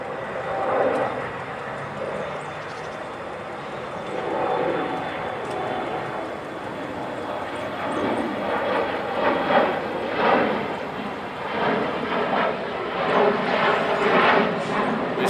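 Military jets, including P-8s and F-18s, fly at Naval Air Station Fort Worth as a broad, distant roar that swells and fades in waves, with faint voices now and then.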